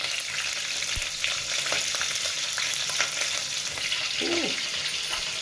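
Red chilli sizzles steadily in hot oil with mustard seeds in a pan for pepper rasam, a continuous loud frying hiss with a few light stirring knocks.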